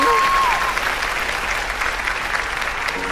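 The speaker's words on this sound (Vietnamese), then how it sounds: "Vỗ tay." An audience at a Vietnamese TV variety show bursts into applause, a dense, steady wash of clapping lasting the whole stretch, with a brief voice at the start.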